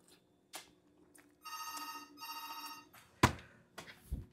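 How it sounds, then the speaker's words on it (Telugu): A telephone rings indoors at home in two quiet, sustained bursts, followed by a few faint knocks and thuds. "ఇంకా ఏదో ఫోన్ వస్తుంది"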